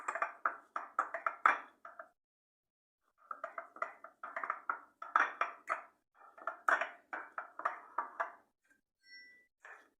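A fork or utensil mashing stuffed-egg filling in a bowl, giving repeated quick clinks and taps in rhythmic bursts with a short pause, close and fairly quiet.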